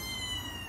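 A cat gives one short, close meow, a single brief cry with nothing else around it.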